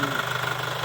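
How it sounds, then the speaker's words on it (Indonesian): Chevrolet Captiva diesel engine idling, a steady close rumble with an even, fast ticking pulse and no change in pace. "Suara mesin lebih halus, lebih kering"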